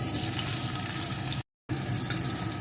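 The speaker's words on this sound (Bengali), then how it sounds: "এখন এই তেলের ভিতরে দিয়ে দেবো একটা পেঁয়াজ কুচি" Chopped onion drops into hot oil and fries with a loud, steady, water-like hiss that fills the whole clip, broken once by a brief cut to silence midway.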